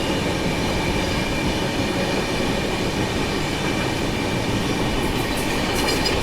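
Maharashtra Sampark Kranti Express 12907 runs through Bayana Junction while overtaking the Valsad–Subedarganj Express Special, a loud, steady, close rumble of wheels and carriages with a thin hiss on top and no voices.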